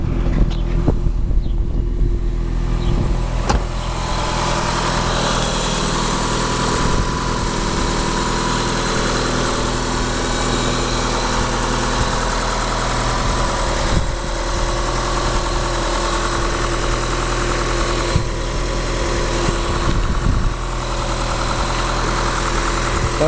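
Eagle Talon AWD engine idling steadily on its first start, a continuous low rumble close by with no talk over it.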